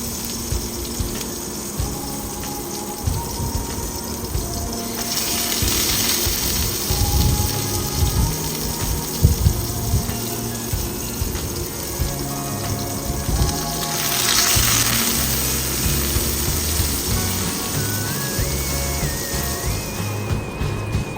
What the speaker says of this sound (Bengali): এবারে একে একে এই পাতার বড়াগুলো সব আমরা ভেজে নেবো